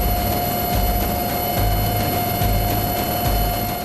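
A Dornier aircraft flies over the sea during a coast guard operation, giving a steady, loud engine drone with a rhythmic throb throughout and no talk.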